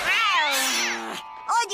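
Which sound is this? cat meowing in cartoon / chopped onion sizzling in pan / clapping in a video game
cat meowing in cartoon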